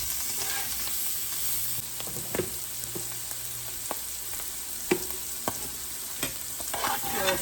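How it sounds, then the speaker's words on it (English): Mushrooms sautéing in a pan for venison Salisbury steak, a steady soft sizzle with scattered sharp clicks and scrapes of a utensil stirring, moderately close and without talk. "I'm just going to saute these until the mushrooms start to wilt down some"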